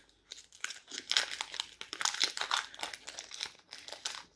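Close, crisp crinkling and tearing of the plastic wrapping on a special-edition card pack, in uneven bursts as it is worked open.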